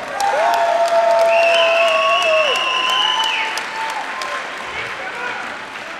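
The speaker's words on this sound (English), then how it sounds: "Give him a round of applause." An audience applauds at a men's junior 93 kg powerlifting competition during the World Classic Powerlifting Championships. The clapping is loud and steady at first, then eases off, with some tonal sounds mixed in.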